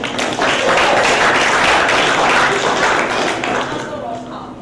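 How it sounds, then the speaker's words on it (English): A student council general assembly audience applauding, a dense burst of clapping that swells for a few seconds and then fades. "round of applause for y'all for that"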